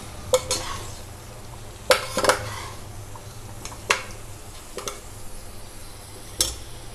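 Chickpeas and masala ingredients for Punjabi chole frying in a pan while being stirred, a soft steady sizzle broken by sharp scrapes and clinks of the spoon against the pan.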